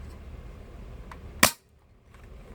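A single sharp snap from a spring-powered airsoft Glock pistol fired up close, a lone crisp pop standing alone against quiet room noise.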